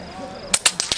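Four sharp airgun shots crack out at an outdoor shooting competition, coming in quick succession after a half-second lull, each a short bright snap.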